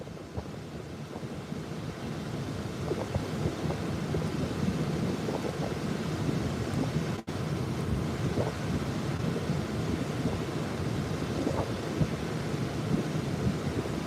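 Ocean waves and gusty wind on a Padre Island, Texas beach under incoming weather: a steady, dense roar of surf and wind buffeting the microphone, continuous for about fourteen seconds with no voices.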